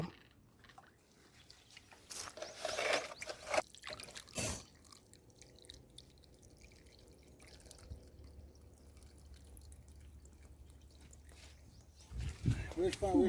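Water poured into a bore well pump motor while it is being refitted after repair: faint trickling and dripping with a few louder bursts, and people talking nearby.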